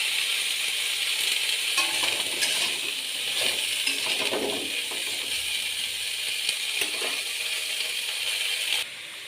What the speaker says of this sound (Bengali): এবার আমি ব্রকলিগুলো ভেজে নেব